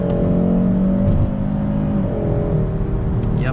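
A 2021 Hyundai Sonata N Line with a 2.5-liter turbocharged four-cylinder pulls under acceleration, a steady close engine drone with rising harmonics heard from inside the cabin, continuous and without talk.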